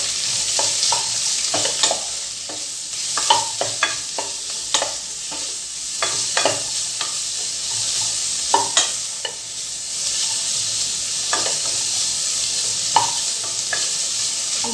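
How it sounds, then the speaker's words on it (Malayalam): Thinly sliced onions sauté in a hot pan with a steady, close sizzle and frequent scraping stirs, without any talking. "ഇനി അതിലേക്ക് ചെറുതായി കനം കുറച്ചരിഞ്ഞ സവാള ചേർത്ത് കൊടുക്കാം"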